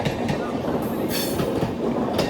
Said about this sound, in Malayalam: നമ്മളെ കൊണ്ടാക്കിയ ട്രെയിൻ തിരിച്ചു പോക്കായി.